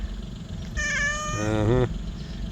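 A cat lets out one drawn-out, rising and falling meow at close range, loud and whiny, with a quiet background before and after.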